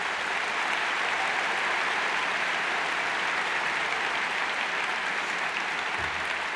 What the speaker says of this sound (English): join me in applauding this distinguished group of individuals